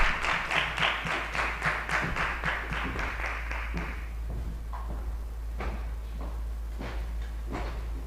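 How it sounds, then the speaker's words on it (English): A meeting audience at a real estate engagement session claps in a short burst of steady applause that thins into a few scattered, sparse claps over a constant low hum. "A round of applause, please."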